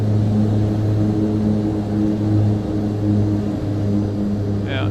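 ATR 72-600 propeller airliner in Microsoft Flight Simulator 2024: a steady, droning turboprop hum with a constant low tone, heard alone.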